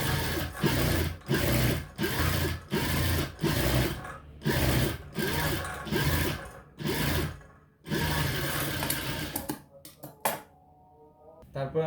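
A sewing machine stitches a blouse in a series of short close bursts of rapid mechanical whirring, broken by brief pauses, followed by a longer run and then quieter handling near the end.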